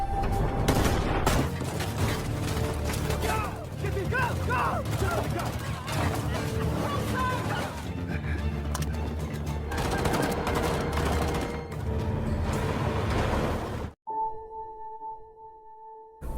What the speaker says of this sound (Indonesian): terjadilah perang baku tembak dengan para militer